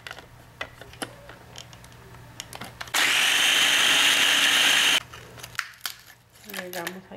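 A blender grinds Maria cookies with evaporated milk in one loud, steady two-second whir, with clinks and kitchen handling before and after it.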